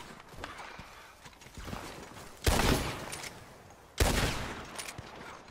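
Gunfire in the Red Dead Redemption 2 video game: two loud booming shots a second and a half apart, each ringing out and decaying, over quieter clopping hooves and ambient noise.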